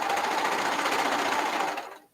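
Sewing machine stitching slowly through a thick middle seam, a steady dense mechanical whir that holds loud and even for about two seconds before cutting off into silence.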